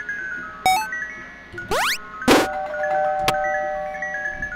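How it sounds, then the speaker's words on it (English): A bright electronic doorbell chime from a Five Nights at Freddy's fan game rings a few times, mixed with short synthetic sweeps and clicks over a low steady background hum. "I mean, it's a doorbell, obviously"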